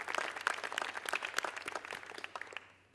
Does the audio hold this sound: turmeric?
no